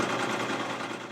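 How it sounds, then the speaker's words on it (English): A sewing machine stitches close parallel lines through an upcycled denim applique for a jeans bag, making a steady, continuous motor whir with no talking. "we're just going to sew a lot of lines going through in the same direction, but possibly a little bit apart from each other"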